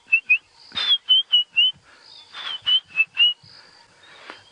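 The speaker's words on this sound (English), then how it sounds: "then there is the white-browed scrub robin going" A white-browed scrub robin sings a series of short, high whistled notes in quick bursts, with some rougher buzzy calls mixed in, moderately close, on an African safari sunrise drive.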